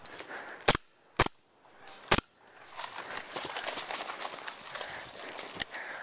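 Paintball markers fire during an attack-and-defend game at an outdoor paintball field, with three sharp, spaced pops followed by quieter rustling movement and a final faint shot.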